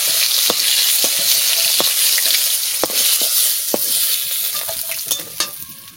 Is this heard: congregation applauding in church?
no